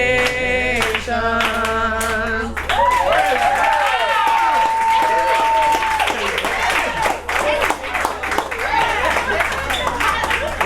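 An audience at a gospel music gathering claps, with dense applause and cheering over singing and shouted voices.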